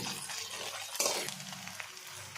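Masala with garlic paste sizzles in a pan for a Nepali-style fish curry: a close, crackling fry with a sharp clatter or stir partway through.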